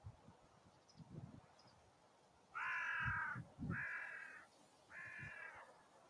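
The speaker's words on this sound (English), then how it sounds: "We've got some crows joining today." Crows outdoors give three loud, harsh caws in a slow sequence, each about a second long, standing out against a quiet background with soft rustling and wind.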